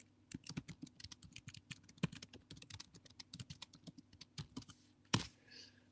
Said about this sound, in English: Just having to type to somebody really quick.